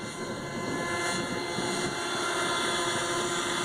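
A Kyosho Cal 30 RC helicopter flying at full throttle in strong wind, its engine a loud, steady high-pitched drone with a sustained whine and rotor hum that holds without a break.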